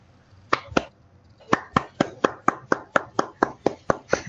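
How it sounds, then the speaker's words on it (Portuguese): Sparse, sharp hand claps follow an academic presentation: two claps, a short pause, then a steady run of about a dozen evenly spaced claps, close and distinct, as if from just one or two people. "Salve de palmas aí"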